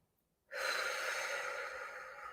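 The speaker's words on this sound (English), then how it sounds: "Deep inhale." A single deep, slow inhale during a meditation session, breathy and close, beginning abruptly after a moment of silence and sustained for about two seconds.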